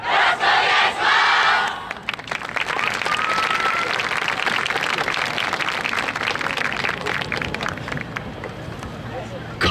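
Loud applause with cheers and whoops rises from an outdoor audience at a YOSAKOI dance festival in Inuyama, swelling briefly, then settling into steady clapping and crowd noise that runs to the end.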